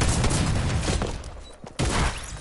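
Rapid automatic fire from a minigun in Fortnite, a dense loud burst that cuts out briefly near the end and then resumes.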